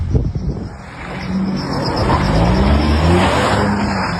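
A car engine revving and moving close by on a street, loud and sustained with rising and falling engine tone and some tire noise throughout.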